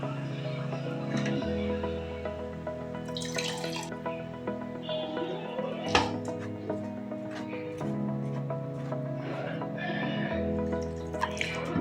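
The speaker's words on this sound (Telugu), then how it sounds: "ఇప్పుడు నీళ్ళు వేసి కలుపుకుందాం" Water is trickled into jowar flour and worked into a dough by hand, giving close, intermittent dripping and wet mixing sounds over a steady background hum, with someone talking at points.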